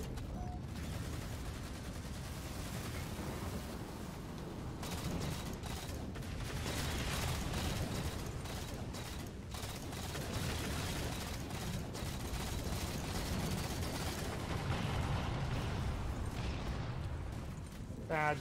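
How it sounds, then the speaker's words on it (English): Explosions and gunfire fill a Halo: The Master Chief Collection match with dense, continuous blasts. Players talk over the bursts and crackling fire. "I just blew myself up."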